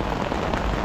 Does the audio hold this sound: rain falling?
yes